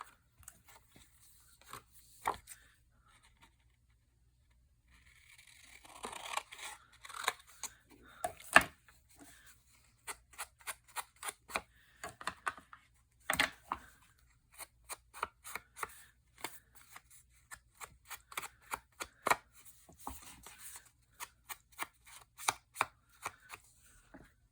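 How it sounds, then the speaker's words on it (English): Scissors snipping through paper or cardstock for a fall-themed paper folio craft, a long run of crisp close cuts in irregular bursts, with quieter rustling and handling between them. "I'm going to cut it first."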